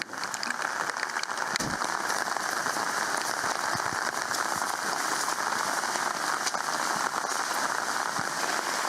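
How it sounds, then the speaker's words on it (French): Heavy rain pours steadily outdoors on the Tango plateau near Koné, New Caledonia, a dense, continuous hiss with scattered closer drops and no voices. "Donc là il pleut beaucoup"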